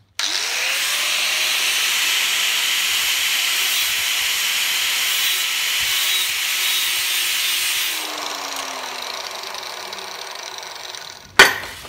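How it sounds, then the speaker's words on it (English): An angle grinder cuts weld prep onto a machined steel bush for a steam locomotive build: a loud steady abrasive hiss with the motor's whine dipping under load, easing off near the end, followed by a brief sharp clank. "now I've got to grind with the angle grinder the weld prep onto each bush"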